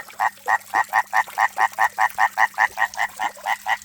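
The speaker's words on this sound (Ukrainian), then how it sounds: "Набрали фонтан і жаби вернулися" A frog croaks over and over in a fast, even rhythm, about four calls a second, close and clear against a quiet background hum, at a garden frog pond.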